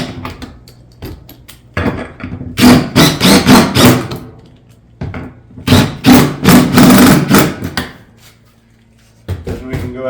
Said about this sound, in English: take our lag bolts and put them in those pre-drilled holes